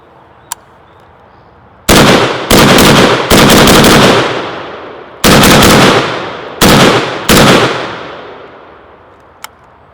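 Gunfire from an M92 PAP AK rifle aimed at zombie targets: seven sharp, loud shots in uneven clusters, each ringing briefly before the next, with quiet gaps between groups.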